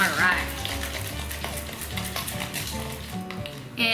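Single-serving Duncan Hines brownie batter is stirred in a small bowl, a continuous wet scraping and swishing close up over faint background music, ending with a brief clink.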